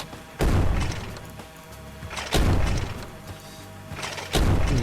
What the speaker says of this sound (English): Like some kind of cannon